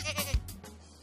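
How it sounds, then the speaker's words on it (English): A cartoon goat bleats once, a short wavering cry standing alone over a faint steady hum. "Goat goes me, me, me!"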